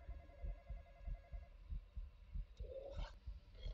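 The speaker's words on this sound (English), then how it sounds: "there's a racing heartbeat" A racing heartbeat in a horror video game, quick low thumps repeating steadily at moderate level, with a brief higher tone near the end.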